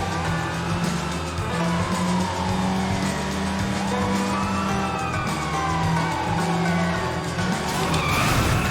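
A car skids with sustained tire squeal during a police chase in the video game Sleeping Dogs, with sirens wailing and engine noise throughout at a steady, loud level.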